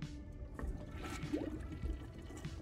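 A toilet flushing in the video game Back To The Dawn, a soft gurgling rush of water with trickling and dripping, fairly quiet and heard alone without speech.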